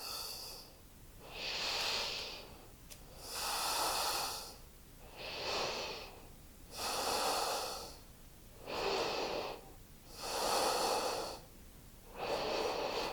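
Slow, heavy breathing during a yoga puppy pose, about seven long audible breaths in a steady rhythm, each rising and fading, close and clear with no talking.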